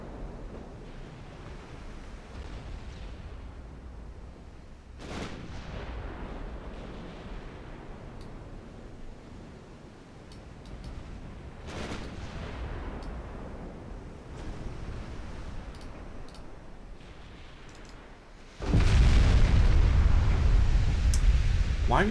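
Warship gunfire in the naval battle game Ultimate Admiral Dreadnoughts, deep booming shots and rumbling impacts scattered over steady sea and wind noise, ending in a long heavy roar, with someone talking over it at times.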